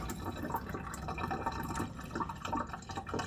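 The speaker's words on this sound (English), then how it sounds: "We want to get all of that water out." Water draining and trickling out of a slippery sprouting container onto a plate beneath, a steady close splashing and dripping flow with small irregular bursts throughout.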